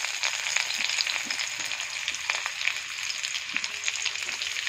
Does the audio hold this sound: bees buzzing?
no